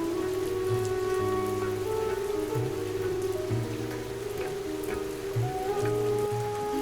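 Steady rain falls during a stormy day in a Bangla cartoon village scene. A constant soft hiss runs beneath sustained, gentle musical tones, with no talking.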